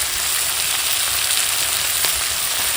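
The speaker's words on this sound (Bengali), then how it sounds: "কষিয়ে কষিয়ে ভাজবে এখন দিয়ে দেবো আদা রসুন জিরে একসঙ্গে বাটা আর দিয়ে দেবো লবণ" A ground ginger, garlic and cumin paste with salt fries in hot oil, hissing in a continuous, fairly loud sizzle with faint stirring ticks and no talk.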